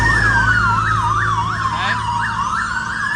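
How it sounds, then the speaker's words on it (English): A loud wailing siren on a London street sweeps up and down in a steady rapid cycle, close by, over a low rumble of traffic. "Those sirens."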